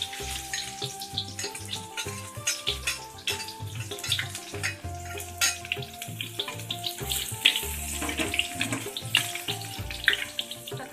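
Ground shallots sizzle and crackle in hot oil while being fried into crispy fried shallots, a dense, continuous spattering with irregular pops and some clinking alongside.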